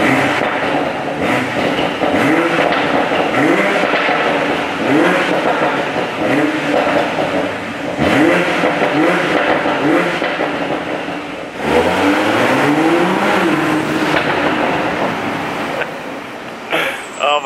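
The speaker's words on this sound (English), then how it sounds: "We're gonna rev it under the tunnel." A 2020 Toyota Supra in sport mode revs repeatedly inside a tunnel, loud rising blips echoing off the walls, with a person speaking between the revs.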